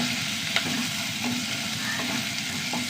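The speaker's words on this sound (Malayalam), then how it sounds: "നാലല്ലി വെളുത്തുള്ളി കേട്ടോ നന്നായി വഴണ്ട് വെക്കണം" Garlic and onion sauté in a pan with a continuous dense sizzle and a few soft clicks of stirring throughout, close up and with no talking.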